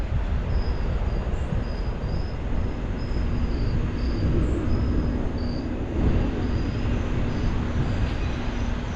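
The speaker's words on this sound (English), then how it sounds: "Here's the train over there." A steady broadband rumble of a train rolling past nearby, with a faint high squeal riding over the continuous roar.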